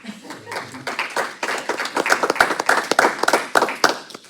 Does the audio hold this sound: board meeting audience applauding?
yes